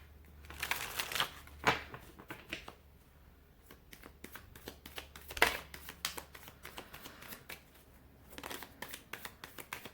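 Tarot cards being shuffled and handled up close, a quiet run of crisp riffling flutters and papery snaps in irregular bursts, with no talking.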